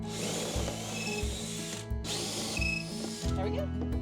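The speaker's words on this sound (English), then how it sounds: "Now, I'm just drilling every other one." A power drill bores holes for shelf pegs in a craft room build, two long steady whirring bursts with a brief pause between and a shorter rev at the end, close and loud.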